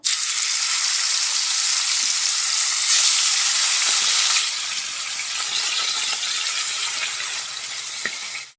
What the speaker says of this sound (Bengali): তো তেল আমার গরম হয়ে গেছে, আর এখন আমি মাছগুলোকে দিয়ে দেব।